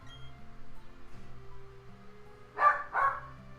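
Two sharp dog barks come close together near the end over a low hum, after a quiet start.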